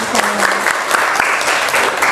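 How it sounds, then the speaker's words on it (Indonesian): Students in a classroom clap their hands together in a dense, even burst of applause that stays steady for about two seconds. "Oke, tepuk tangan dong"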